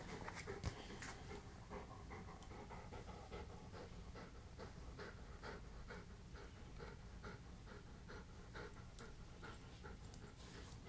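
A mostly white German Shepherd mix pants steadily and rhythmically up close, a soft continuous run of quick breaths with a few faint clicks and rustles, and no voices.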